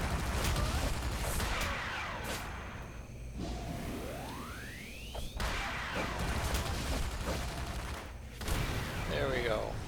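Automatic turret fire in the City of Heroes video game: rapid bursts of gunfire with whooshing projectiles and crashing impacts, dense and loud throughout a busy combat mix.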